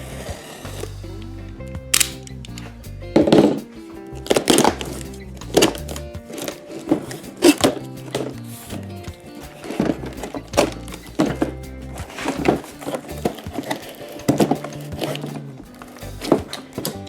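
A utility knife slices open a cardboard box holding a corded pole saw, giving a series of sharp cutting thunks and scrapes at close range, with irregular bursts and pauses.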